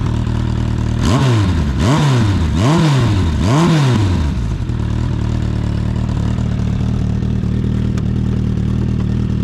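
A 1996 Suzuki Bandit 1200 motorcycle with an aftermarket Giannelli exhaust revs sharply four times in quick succession with a loud, throaty exhaust, then settles into a steady idle.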